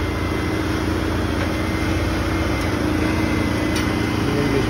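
A hydraulic four-post car lift runs with a steady, loud motor hum and drone, unbroken from start to finish.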